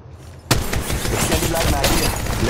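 Gunfire in Apex Legends Mobile bursts in abruptly and stays loud. A dense, continuous volley of rapid shots is mixed with other busy game sounds.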